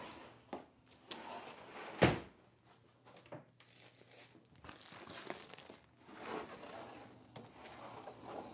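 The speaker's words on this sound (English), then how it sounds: "you might hear a door" An outdoor house door is opened and shut during a backyard cookout, giving one sharp slam-like knock among soft rustling, crinkling and handling noises, with no speech.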